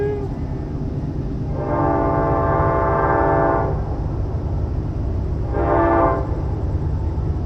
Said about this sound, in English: I don't know if that train's going to totally kill us.